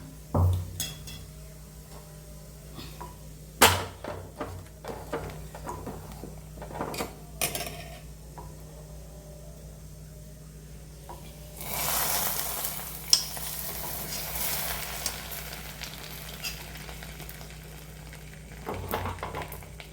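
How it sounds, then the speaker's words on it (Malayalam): Ghee-fried raisins tipped into carrot payasam, a steady sizzle and frying hiss with scattered clinks of a pot and utensil, swelling into a louder burst of bubbling sizzle near the end, with no talking. "അപ്പോൾ ഇത് മുന്തിരി വറവായിട്ട് നമുക്ക് മാറ്റി വെച്ചിട്ട് നമുക്കത് നമ്മളെ പായസത്തിലേക്ക് ഒഴിച്ചു കൊടുക്കാം"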